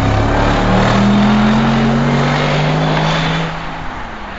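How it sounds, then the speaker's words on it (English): Mercedes-Benz SLR McLaren with a supercharged V8 revving hard, a loud dark rumble topped by a rising supercharger whine that climbs steadily and then eases off near the end, close and continuous with no talk. "To the dark V8 rumble comes the whine of the supercharger at higher revs"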